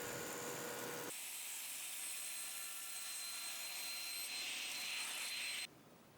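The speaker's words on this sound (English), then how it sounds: "we can get this thing squared up on the joiner and milled to width" A jointer mills a 3x3 wooden pillar with a loud, steady roar and high whine that runs unbroken for several seconds, then cuts off abruptly to a quieter hum near the end.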